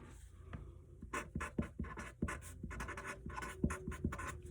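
A pen or marker writes the word "helmets" on paper, close up, with a run of quick scratchy strokes and short taps in an uneven rhythm and no talking.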